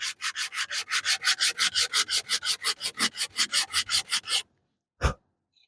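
Sandpaper rubs wood on a deckbox in about twenty quick, even back-and-forth strokes, then a pause and one final thump.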